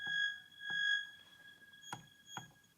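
A looped sample of a plastic cassette case snapping open, giving a few sharp clicks with a ringing tonal hum in between, close and alone.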